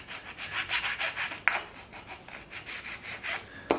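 Filing a wooden wedge for an axe handle, a steady rhythm of close rasping strokes, roughly a dozen back-and-forth scrapes with a couple of sharp taps in between.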